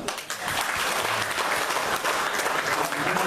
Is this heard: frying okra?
no